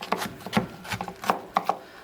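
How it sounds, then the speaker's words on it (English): A knife chops a pile of onions on a cutting board, rocking across it from the tip: a quick irregular run of close, crisp knocks heard alone. "you can take your knife, hold it down by the tip, and just go across"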